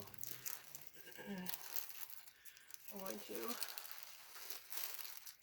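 Plastic crinkles and rustles as a bag of lavender buds is pulled open, with a person talking over the crackling handling noise.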